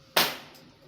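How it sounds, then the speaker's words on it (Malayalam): One firecracker goes off at a moderate distance, a single sharp bang that decays quickly into quiet, with a fainter faint pop shortly after. "പടക്കം പൊട്ടിച്ചുന്നു."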